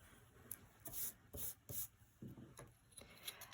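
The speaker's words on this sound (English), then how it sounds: "I rub out the lines I do not need" An eraser rubs out pencil lines on paper while a two-point perspective road scene is being drawn: several short, soft scrubbing strokes in quick bursts, close and faint in a quiet room, with no talking.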